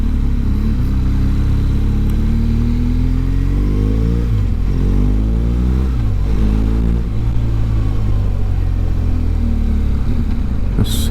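A BMW GS motorcycle engine runs steadily and close while riding, with loud low rumble and rising and falling revs through gear changes, plus constant wind and road noise.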